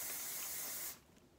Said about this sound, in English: I'm gonna take my hairspray.